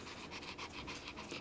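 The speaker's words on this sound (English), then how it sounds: "Listen to that panting going." A dog named Peach pants quickly and steadily, with rhythmic breaths close by but faint, and no talking.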